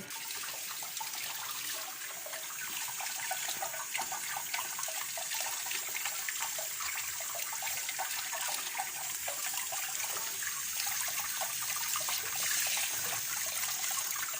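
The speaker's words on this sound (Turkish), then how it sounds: "pırasalar yıkanıyor" Fresh village leeks from the garden are washed under running water, a continuous close splashing and trickling stream that stays even and steady throughout without voices.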